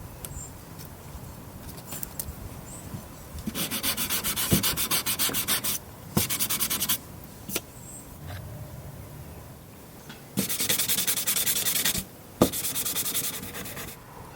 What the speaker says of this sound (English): Companionway and cockpit sanded, prepared for oil and paint.